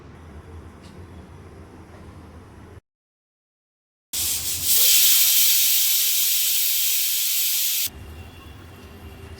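A pressure cooker of sarson ka saag on the gas lets off a loud, sustained steam whistle-hiss lasting several seconds after a brief silence, with a quieter kitchen background before and after.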